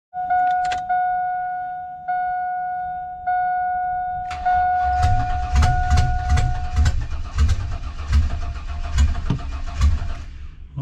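Cadillac Escalade with a fault, a steady warning chime pulsing over several seconds, then the starter cranks and the engine fires into a rough, close, uneven running rumble.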